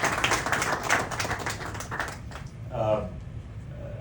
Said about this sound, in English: I think that is deserving of a round of applause.